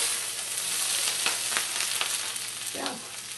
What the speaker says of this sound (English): So you take your hot oil. You take your onions.